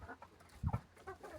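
A few hens settle in a dry, clean roosting coop and cluck close by, with two louder clucks in the middle among softer murmuring and no one talking.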